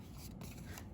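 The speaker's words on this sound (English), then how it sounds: "I just take my scissors" Scissors rough and scrape along a cardstock paper edge for stamping and card-making, a close, steady rasping rub with no talk.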